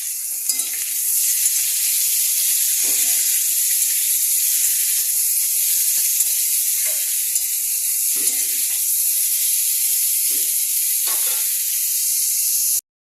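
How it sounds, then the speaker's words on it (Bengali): Beetroot and carrot fry in a pan with a loud, continuous sizzling hiss, broken now and then by short stirring scrapes, close up and with no talking. "এবারে এটা ভাজবো।"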